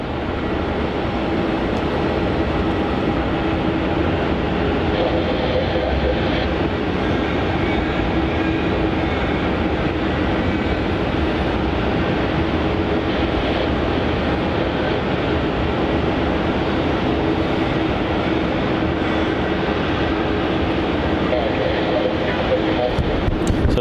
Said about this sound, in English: looks like we have the United Dreamliner on pushback from the international terminal